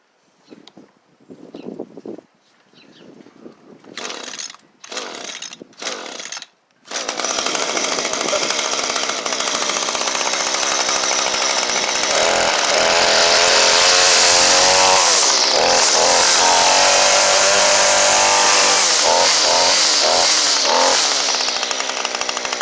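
An Echo GT-225 string trimmer with a newly replaced carburetor: several short pull-start attempts sputter and cut out, then the small two-stroke engine catches and runs loud and steady, revving up and down near the microphone.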